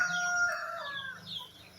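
Chickens cluck and a rooster's crow trails off in the background, fairly distant, over a steady outdoor hum.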